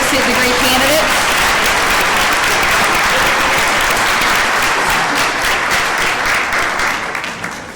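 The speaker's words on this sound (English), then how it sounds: "if we could give a big round of applause for those associate degree candidates" A large audience at a graduation ceremony applauds associate degree candidates with sustained, dense clapping that fades near the end, with a voice briefly heard at the start.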